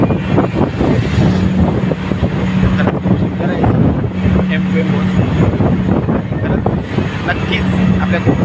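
M2M ferry boat cruising at sea from Mumbai to Mandwa, its engine a steady low drone mixed with continuous wind buffeting the microphone and voices talking throughout.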